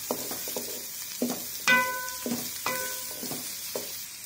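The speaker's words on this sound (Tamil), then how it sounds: "வெங்காயம் நல்லா வணங்கட்டுங்க." Small onions, about 150 grams, sauté in a pan for beetroot chutney, giving a soft sizzle broken by spatula scrapes and ringing metallic clinks against the pan.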